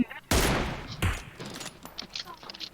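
Gunfire in the PUBG Mobile video game: two sharp, loud bursts a moment apart, followed by lighter scattered shots and game noise as players talk over it.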